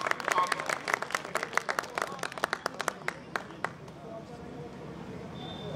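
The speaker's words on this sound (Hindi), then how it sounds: "और एक बार तालियों का दौर हो जाए सर के लिए।" An audience at a Hindi poetry recital claps in a quick, scattered burst that thins out and stops after a few seconds, with voices murmuring afterward.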